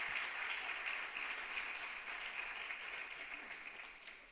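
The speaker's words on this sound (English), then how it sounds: "Nice round of applause for Jared DeWinney." A round of applause for an inductee at a National Junior Honor Society induction ceremony, even clapping from a seated audience, somewhat distant, gradually fading toward the end.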